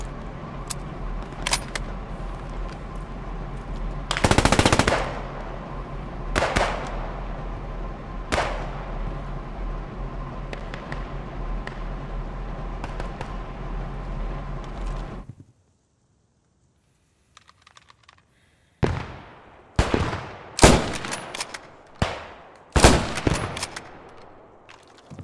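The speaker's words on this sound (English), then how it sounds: "We're getting artillery on that front." Artillery and gunfire in the Post Scriptum war video game, with loud booming blasts and bursts of rifle and machine-gun fire, a sudden near-silent gap midway, then more close, sharp shots.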